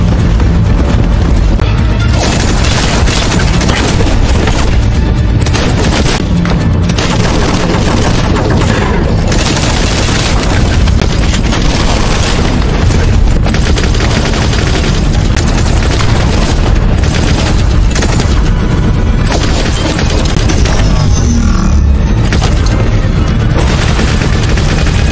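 Film battle sound as an alien ship is destroyed, very loud dense volleys of gunfire and booming explosions that roar without a break throughout.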